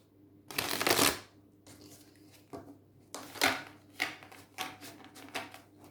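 Nicoletta Ceccoli tarot cards being shuffled by hand in several bursts, a long loud riffle first, then a run of shorter papery riffles and card slaps, close and clear with no talking.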